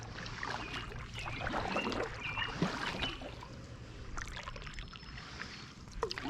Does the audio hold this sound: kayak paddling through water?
yes